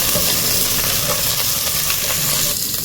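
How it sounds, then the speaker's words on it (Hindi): Onions cook in a pan over a lowered gas-cylinder flame, giving off a steady, close sizzling hiss with faint bubbling and occasional crackles. No voices are heard. "प्याज बॉइल हो रहा है, प्याज बॉइल हो रहा है"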